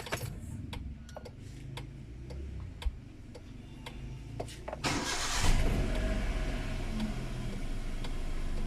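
A Hyundai Eon's engine cranks and catches about midway after a stretch of steady ticking, then settles into a low, even idle close by; no one speaks.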